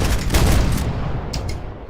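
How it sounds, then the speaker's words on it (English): Video game grenade blast and gunfire: a dense, booming burst of explosive noise fills the first second, then rumbling decays with a couple of sharp later cracks, loud and close. "Grenade! Grenade!"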